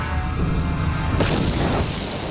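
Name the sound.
grenade explosion in video game Star Wars Knights of the Old Republic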